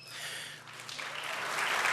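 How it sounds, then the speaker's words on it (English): Board of Education recognition audience breaks into applause that starts soft and builds steadily into a fuller round of clapping. "They like to clap."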